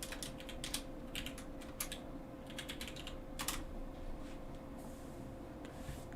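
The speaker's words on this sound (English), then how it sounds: "I'm just gonna type in the chat some stuff." Typing on a computer keyboard to send messages in a live stream chat: faint, irregular clusters of quick key taps with pauses between them, set against a steady low hum, and no voices.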